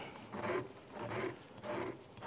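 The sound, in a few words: filing down a night sight to fit a pistol dovetail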